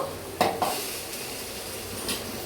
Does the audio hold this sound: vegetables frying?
yes